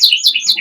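A Border canary in a breeding room chirps in a quick run of bright, high, closely spaced notes, near and loud, with no voices.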